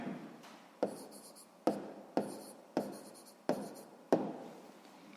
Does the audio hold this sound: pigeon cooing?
no